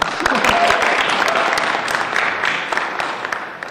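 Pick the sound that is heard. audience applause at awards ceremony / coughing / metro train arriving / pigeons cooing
audience applause at awards ceremony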